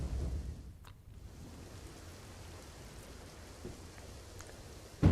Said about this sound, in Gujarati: નડાબેટમાં ધોધમાર વરસાદ